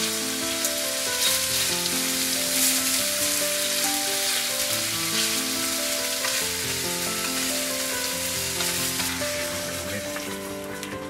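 Salmon fillets frying in a hot pan, a loud, steady crackling sizzle that carries on without pause and eases off slightly at the end.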